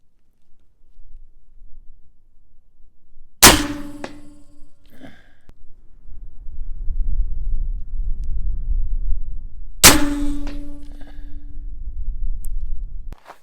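An AEA Zeus .72 caliber airgun fires two loud, sharp reports about six seconds apart, each with a brief metallic ring. Quieter handling and low rumbling noises fill the gap between the shots.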